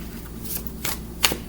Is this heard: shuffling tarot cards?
yes